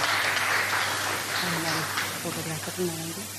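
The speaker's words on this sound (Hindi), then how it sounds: "प्लीज़ जोरदार तालियां उनके लिए भी।" A crowd in a community hall keeps up a steady wash of applause while a voice talks over it in the second half.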